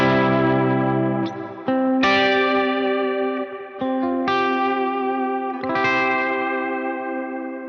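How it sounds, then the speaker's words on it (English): An electric guitar plays sustained chords through a shimmer reverb pedal on a pedalboard. The chords ring out in a bright, layered wash with octave-like overtones, and each change blooms into the next without any talk. "I'm using the shimmer sound"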